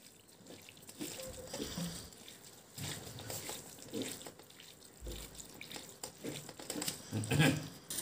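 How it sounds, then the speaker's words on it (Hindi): Cold water runs and splashes into a vessel to wash chhena, the curdled milk for rasgulla, in irregular close bursts with handling noises in between. "इसके लिए हम इसमें अंदर ये ठंडा पानी डालेंगे और इसको बढ़िया तरीके से धोकर वापस उस पानी को निकाल देंगे।"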